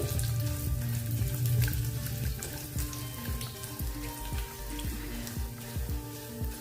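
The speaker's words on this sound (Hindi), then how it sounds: "इसको थोड़ा सा होने देंगे अभी तेल में, यानी भुनने देंगे" White sesame and carom seeds sizzle and crackle in hot oil, a close, steady frying hiss broken by small pops and the occasional stir.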